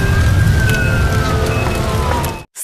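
An ambulance siren sound effect wails with a steady sweeping tone over a rushing noise bed, loud and close, then cuts off abruptly, in an animated retelling of the Air India flight AI171 crash in Ahmedabad.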